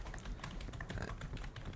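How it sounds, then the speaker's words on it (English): Rapid, continuous clicking of keys on a computer keyboard picked up through an open mic, a dense, steady patter of taps at fairly low level with no talking. "can y'all hear my keyboard?"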